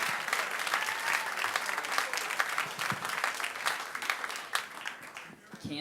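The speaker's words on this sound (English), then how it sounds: "Another round of applause for Jan." A stand-up comedy class audience in Atlanta applauds a comedian, a steady dense wash of clapping that holds for several seconds before thinning at the end.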